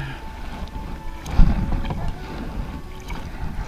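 Kayak paddling on water while searching for manatees near Fort Myers, Florida; low splashy churning and wind buffeting the microphone, with one louder stroke or bump partway through, steady and close.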